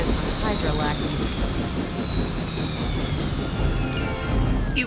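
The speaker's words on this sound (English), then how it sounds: "You've grounded the helicopter." A grounded helicopter in the video game Marvel's Midnight Suns gives off a loud, dense engine roar with a high whine running over it, steady and continuous throughout.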